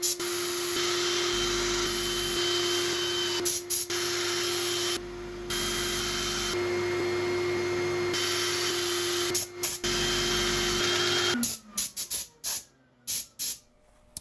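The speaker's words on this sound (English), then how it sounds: "So, yeah, we're ready for sanding." Loud, continuous whirring hiss of a spinning lathe sanding a mallee burl, briefly cutting out a few times before stopping into sparse, irregular rattles.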